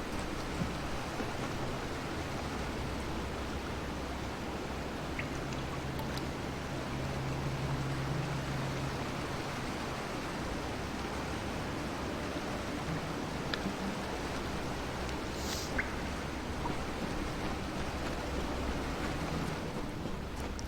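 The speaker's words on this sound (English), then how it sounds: "Ah, that waterfall." Steady broadband rushing of a waterfall in the fantasy game Kingdoms of Amalur Re-Reckoning, a continuous even roar with no pauses, moderately loud throughout.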